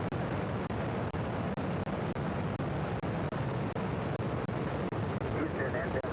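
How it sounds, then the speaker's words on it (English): Space Shuttle Endeavour's boosters ignite and lift off in a loud, continuous broadband roar that fills the whole clip, heard without any voices. "Booster ignition and liftoff of Shuttle Endeavour"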